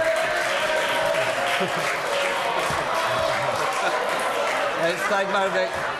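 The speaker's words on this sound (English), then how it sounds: "I welcome the applause from the Labour Party benches as well." Members on the Labour Party benches in the House of Commons applaud during an EU Withdrawal Bill debate, a steady, dense clapping mixed with crowd murmur and voices that runs evenly throughout.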